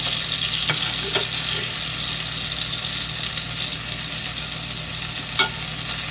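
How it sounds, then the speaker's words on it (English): Steady, loud sizzling of a ham and cheese sandwich frying in butter in a pan, a continuous crackling hiss with a few brief pops throughout. "It's sizzling because it's with butter, which is a fat."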